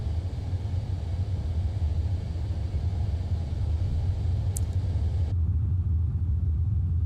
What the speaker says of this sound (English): Powerful speed brakes on this machine. Really good.